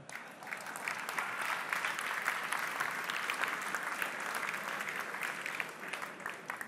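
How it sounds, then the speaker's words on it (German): Steady, moderately distant audience applause fills a hall at a CSU Political Ash Wednesday rally in Lower Bavaria, a continuous even wash of clapping without speech. "Da könnten die Niederbayern schon klatschen."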